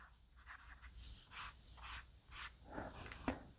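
A stylus scratches and taps across a Kindle Scribe e-ink screen in a run of short, quiet strokes with brief pauses between them, heard up close with no talking.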